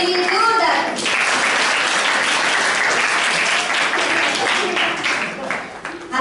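Loud, sustained applause from an audience of girls and young people at a National Girl Child Day event, steady clapping filling the hall for about six seconds and fading slightly at the end.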